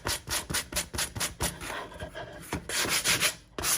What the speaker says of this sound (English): the sander just gets it perfectly around the edges